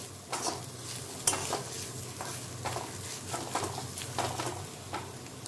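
Ground spices sizzle in a pan for chhana bhaji as a spoon stirs them, with steady frying hiss and irregular scraping strokes up close, no talk.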